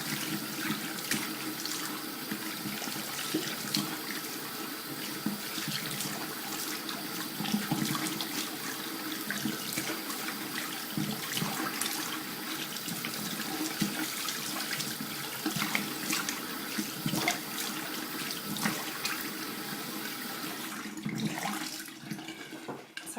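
Water pours steadily from a bathroom sink faucet while a face is rinsed, a continuous close splashing hiss broken by irregular splashes from hands, with no talking.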